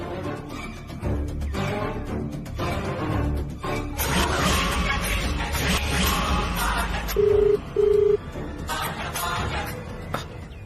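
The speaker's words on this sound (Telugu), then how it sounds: "ఏంటి శ్యామ ఫోన్ లిఫ్ట్ చేయట్లేదు?" An outgoing phone call rings on without being answered in a Telugu TV drama scene, two short electronic ringback tones standing out over a continuous bed of background music, with no talking.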